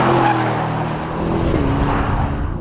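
An Aston Martin sports car corners hard in third gear on a track, its engine roaring loud and close with a rising tire squeal as it pulls through the bend.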